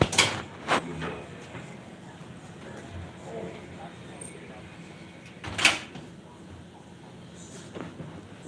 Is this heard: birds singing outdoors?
no